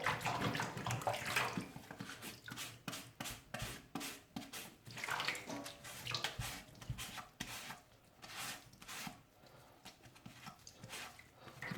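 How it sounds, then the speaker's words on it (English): A wet rag scrubs paper off foamboard in a tub of hot water, producing repeated rubbing, sloshing swipes in an uneven rhythm, close and fairly quiet. "you can actually put it in the water and just start wiping away at that."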